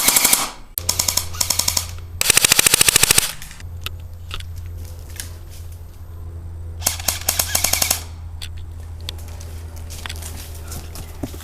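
An AGM Sten MKII airsoft submachine gun fires full-auto in several short, rapid rattling bursts close by, with quieter mechanical clicks and a steady low hum between the strings of shots.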